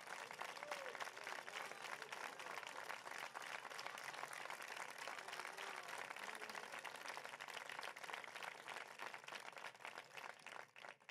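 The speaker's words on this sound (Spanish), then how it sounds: "un fortísimo aplauso porque se lo merecen" Sustained audience applause at a Partido Popular political campaign rally in Spain, a dense, loud wash of many hands clapping that holds steady throughout and tapers slightly at the very end.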